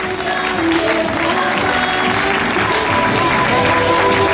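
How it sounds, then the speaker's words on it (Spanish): A church congregation gives a loud, continuous round of applause during an evangelical service, dense clapping throughout with voices and sustained tones mixed underneath. "Un fuerte aplauso al Señor"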